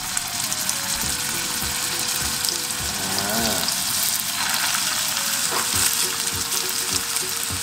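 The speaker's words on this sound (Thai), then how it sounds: "ทอดที่3ชิ้นเลยแบบนี้" Pork patties sizzle steadily in a hot pan with a constant crackling hiss, close up, with faint clinks and a brief voice.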